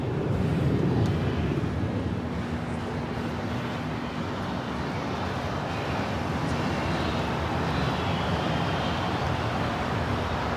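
An airliner lands on runway 24 right at LAX in Los Angeles, heard as a continuous, broad, distant roar mixed with wind buffeting the microphone throughout, with no talking.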